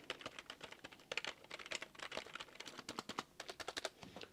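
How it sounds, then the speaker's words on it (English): Rapid typing on a traditional membrane computer keyboard, soft muffled key presses in a quick uneven stream, close and fairly quiet. "For example, this is a traditional keyboard."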